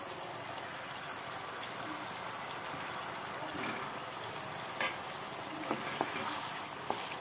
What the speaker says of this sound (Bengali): একে একে মাছগুলো দিয়ে এপিট ওপিট করে একটু নেড়ে নেব